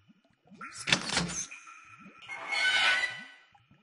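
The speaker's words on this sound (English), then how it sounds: "The hatch has opened" In The Black Mirror adventure game, a hatch is levered open with a metal rod: a sharp scraping burst, then a longer grinding, sliding screech, close and fairly loud, with soft clicks around it.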